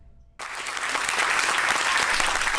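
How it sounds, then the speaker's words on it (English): Crowd bursting into cheers and applause for Peggy Nash's arrival at the Gladstone Hotel in Toronto, sudden onset after a quiet moment, then a dense, sustained roar of clapping and cheering. "Crowds cheered for the arrival of Peggy Nash at the Gladstone Hotel in Toronto"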